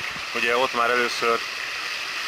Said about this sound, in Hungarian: A patak úgy egyébként másodjára van itt felszínen.